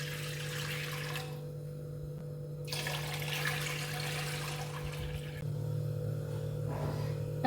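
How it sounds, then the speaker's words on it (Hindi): Three cups of water pour into a cooking pan for plum chutney, a steady rushing splash running for several seconds with short pauses between pours, close and fairly loud. "फिर इसके अंदर मैं ये 3 कप पानी डालूंगी।"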